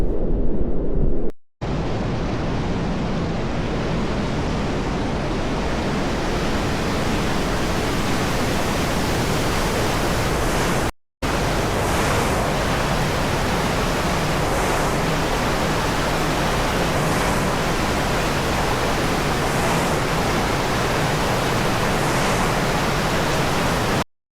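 A dense, continuous rush of falling water from Deungseon Falls on Samaksan during a heavy rain warning fills the scene, steady and loud with no voices, broken only by two brief cuts.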